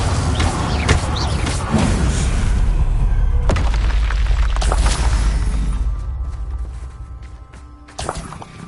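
Booming spell blasts in Hogwarts Legacy, Bombarda and Confringo bursts, loud and dense with heavy low rumble, fading toward the end before one last thump.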